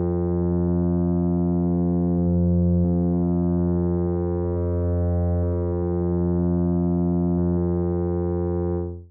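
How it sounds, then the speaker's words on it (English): Newfangled Audio Pendulate, a wave-folding synth with its symmetry control adding asymmetry, holds one steady, buzzy, harmonically rich tone that drones loudly and alone for about nine seconds, its timbre shifting slightly before it cuts off. "Symmetry adds DC to the wave folding function, which makes it more asymmetric."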